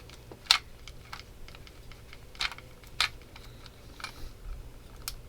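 Tiny screw being driven into a part of a DeAgostini Ford GT scale model, giving a few sparse, sharp close-up clicks and ticks over a quiet room.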